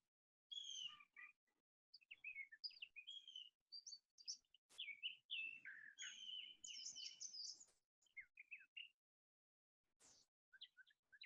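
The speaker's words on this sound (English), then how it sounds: "I hope y'all can hear the birds. They're so glorious sounding today." Birds chirp and tweet in bursts of bright, varied song, close and clear against a quiet outdoor background, with short pauses between phrases.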